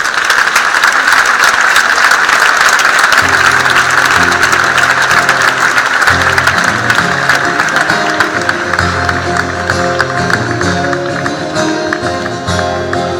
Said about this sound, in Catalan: Un fort aplaudiment per a ells.